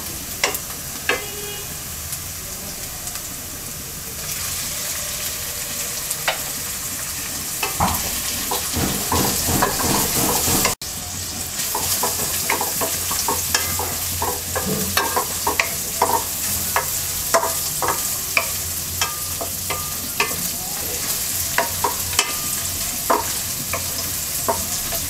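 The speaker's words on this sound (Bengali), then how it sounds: "এবার দিয়ে দিচ্ছি চিংড়ি মাছ। চিংড়ি মাছটা আমরা পেঁয়াজের সাথে 1 মিনিট ভেজে নেব।" Prawns fry with already-browned onions in a pan, giving a steady close sizzle broken by frequent scraping and stirring strokes throughout.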